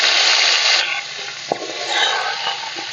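A dried red chili and panch phoron spice mix hit hot oil in a pan and sizzle loudly and close, a dense hiss that eases slightly, with a light clink partway through.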